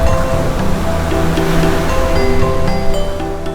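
Pacific Ocean surf pounding the shore at a Siargao surfing spot, a loud, steady wash of crashing waves heard up close and alone.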